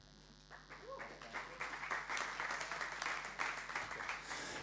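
Audience in a church breaks into applause, a dense, steady wash of many hands clapping that swells after the first second and holds loud to the end, with no voices over it.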